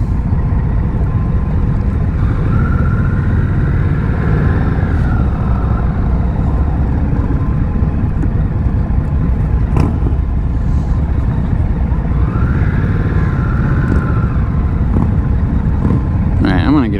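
A 2022 Indian Scout Rogue motorcycle on a test ride: a steady, loud engine drone with wind rush throughout, rising and falling with a couple of revving swells.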